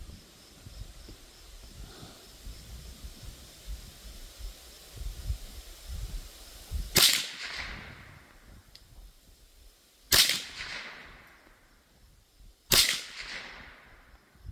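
A Mendoza Puma .22 LR rifle fires three sharp, loud cracks at roughly three-second intervals at an outdoor range with targets at 35 yards, each shot followed by a short fading tail over low background rumble.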